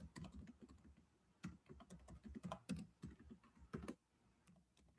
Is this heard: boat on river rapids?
no